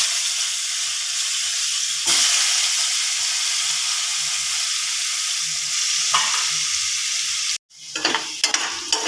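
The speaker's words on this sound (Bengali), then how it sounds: "দেখে রাখা আলুটা এই গরম তেলে দিয়ে দিচ্ছি আমরা" Potato pieces frying in hot oil, in the same oil just used for fish heads, make a strong continuous sizzle that drops out briefly near the end and returns as sharper crackling pops.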